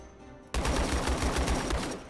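Rapid gunfire striking houses in the war game Call to Arms, in a Black Hawk Down battle: a sudden burst of steady, fast, loud shots beginning half a second in and running to the end.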